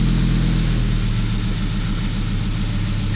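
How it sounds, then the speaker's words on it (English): A Volvo 850 engine idles steadily after long storage, a low close rumble with a slight rhythmic surge, heard alone without talk. "you can see it's idling. It's surging just a smidge"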